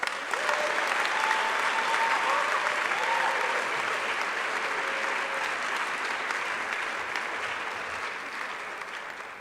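An audience gives sustained applause, dense and steady, welcoming Dr. Daniel K. Williams to the stage at a lecture on God and politics, then fading slightly toward the end.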